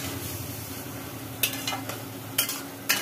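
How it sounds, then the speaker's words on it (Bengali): Taro leaves (kochu shak) being stirred in a pan, with a constant soft sizzle and three sharp scraping strokes of the spoon against the pan, standing alone close by. "ঢাকনাটা তুলে একটু নাড়া হচ্ছে"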